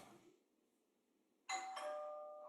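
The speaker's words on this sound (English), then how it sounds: "that doorbell was actually my alarm sound effect" A sudden electronic doorbell chime, used as an alarm sound, rings out loudly after a quiet stretch, its tone sustaining and slowly fading.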